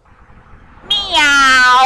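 Meowth, the cat Pokémon from the cartoon, meows in a drawn-out, loud, whiny cry that rises sharply after a quiet start, a voice actor imitating a cat.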